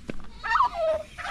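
Pet turkeys on a farm beside a new hut let out a short gobbling call, close and clear, with a brief rattling tremble.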